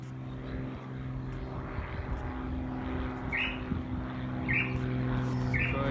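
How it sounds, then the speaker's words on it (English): Propeller-driven training plane from Jandakot circling low over a house, its steady engine drone filling the scene at moderate loudness with faint bird chirps above it. "it's one of the planes from down Jandakot doing his training, because you sometimes see him coming around straight over the house"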